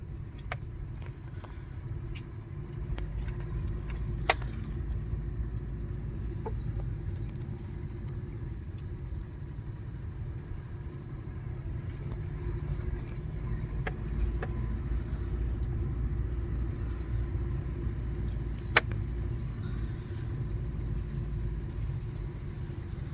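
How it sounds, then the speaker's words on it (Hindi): A tractor works a field in front, a steady low engine rumble heard from a distance for the whole stretch, with occasional faint clicks and no talking. "ट्रैक्टर वो सामने इसमें ही चल रहा।"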